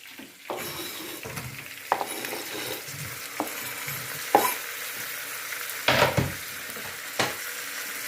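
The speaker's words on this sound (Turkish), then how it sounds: "Domateslerimizi de atıyoruz. Biber öldürdükten sonra." Chopped peppers and tomatoes fry in a pan with a soft continuous sizzle, broken by scattered stirring scrapes and clinks of a utensil against the pan.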